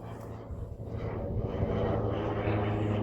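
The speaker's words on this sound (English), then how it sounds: "Oh, there's a plane up there, wow." An airplane passes high overhead near an abandoned railway on the Hertfordshire border, a low rumbling engine drone that swells gradually louder over a few seconds.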